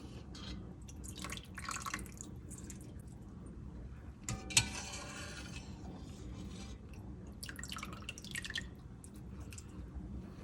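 Cheese curds are scooped from whey with a small basket while making mozzarella without rennet: soft wet sloshes and drips recur, with one brief louder splash midway, close and quiet against a low background hum.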